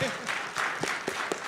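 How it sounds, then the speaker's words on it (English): Brief burst of audience applause at an education technology conference keynote, scattered claps of a modest crowd rising and fading quickly, with a voice speaking over part of it. "also a round of applause for his introduction"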